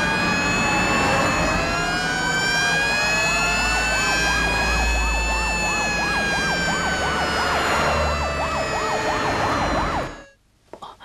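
Several fire engine sirens race toward a blaze at a large entertainment complex, loud and close, with long wails layered over a fast warbling yelp that runs steadily and then cuts off abruptly.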